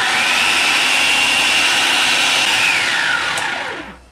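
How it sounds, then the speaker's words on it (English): A kitchen blender pulverizing one medium onion, a loud, close, whining motor roar held steady for several seconds before spinning down and fading at the end. "we take our 1 medium onion and we pulverize the heck out of that too"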